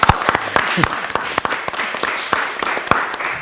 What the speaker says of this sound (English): I think we should give Lily an applause for being here.